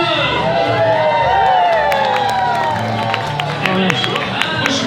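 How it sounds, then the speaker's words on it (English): An audience at a Christmas Carol show with dancing in Oak Glen cheers and claps after a dance, with whoops and crowd voices riding over steady applause throughout. "Ladies and gentlemen, give yourselves a round of applause."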